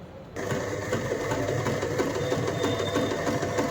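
Pico edging is stitched onto saree fabric by a sewing machine that starts abruptly and then runs loud and steady at close range with no talking.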